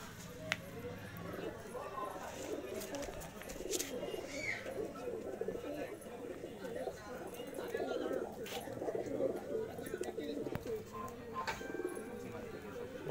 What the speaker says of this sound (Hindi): बहुत ही अच्छा कबूतर है